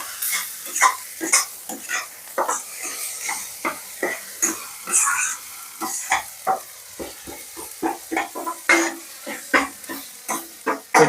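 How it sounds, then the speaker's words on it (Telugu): Ginger garlic paste fries in a pan with a steady sizzle, while a spoon scrapes and stirs in repeated, rhythmic strokes, close and clear. "కొంచెం పచ్చివాసన పోయేంత వరకు అయితే ఫ్రై చేసుకున్నాం."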